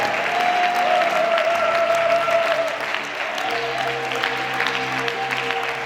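Sunday worship congregation applauding loudly and steadily, a dense sustained wash of clapping with a held musical tone and low hum beneath it.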